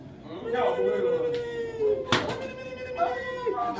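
A voice imitates a cat's meow in drawn-out, wavering cries, with a sharp knock partway through and speech around it.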